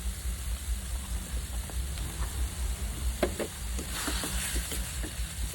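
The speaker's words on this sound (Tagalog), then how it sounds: "Pagkatapos ating haluin para equally cook ang ating mga vegetables" Chopsuey vegetables with potatoes cooking in a pan, a steady bubbling sizzle with a few soft scraping stirs near the end, no voices.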